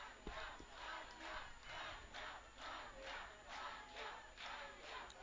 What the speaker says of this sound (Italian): Quello che sentite sono i cori dei tifosi del Südtirol per Rania Fischer